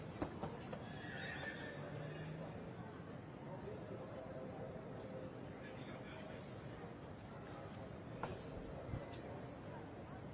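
Ponies whinny and hooves clip-clop faintly in a show ring at the Royal Welsh Show, under crowd murmur and nearby talk.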